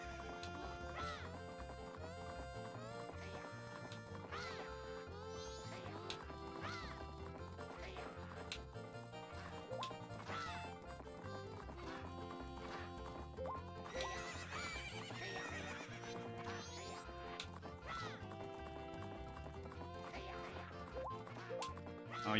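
Galloping horses in Zelda: Majora's Mask, a rhythmic clip-clop of hooves with occasional neighs running under steady game music throughout.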